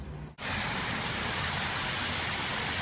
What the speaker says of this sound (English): it just started pouring suddenly